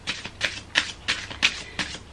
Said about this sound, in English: now I'm going to start shuffling